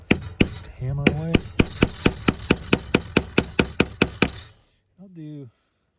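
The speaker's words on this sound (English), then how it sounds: "And then just hammer away." A punch hammered through leather while making a metal detector arm rest, about fifteen sharp, evenly paced strikes in a steady rhythm, close and loud, with a voice speaking briefly during and after.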